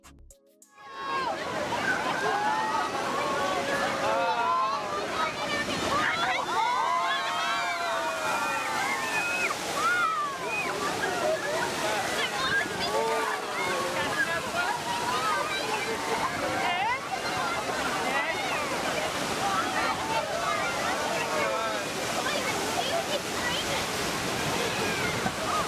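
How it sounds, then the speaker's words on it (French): Huge ocean waves driven by a cyclone on the Australian coast crash continuously, a loud sustained roar of surf and churning water filling the whole stretch, while people's excited voices carry over the noise throughout. "Eh ben dis donc, ce ne sont pas des vagues normales."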